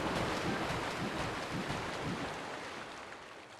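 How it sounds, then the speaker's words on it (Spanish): Water in Zelda: Breath of the Wild makes a steady, broad washing rush like surf, loud at first and easing slightly toward the end, with no voices over it. "Qué ruido más raro del agua, ¿no?"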